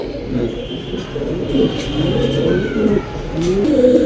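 Domestic pigeons at a bird market coo in low, repeated throaty burbles that overlap one another, close and fairly loud over a steady hum of background crowd noise.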